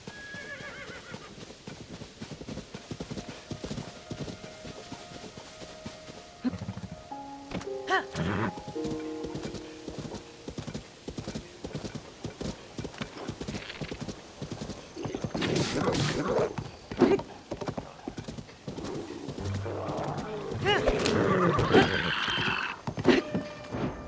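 Horse neighing and whinnying with clip-clopping hooves from Ganon's horse in Zelda: Tears of the Kingdom, a steady hoofbeat rhythm throughout with louder bursts of whinnies and game effects in the second half.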